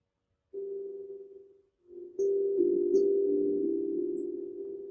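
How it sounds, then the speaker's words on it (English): Sustained tongue drum tones ring out: one clear held note fades, then a second strike opens into layered, slowly decaying pitches, soft and close in a quiet room, with no voices. "Just allowing the tones of the tongue drum to guide you a little more deeply"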